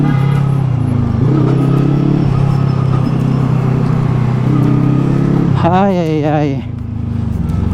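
A motorcycle on a first short ride along the road, its engine droning steadily and loud throughout, with a brief vocal exclamation near the end.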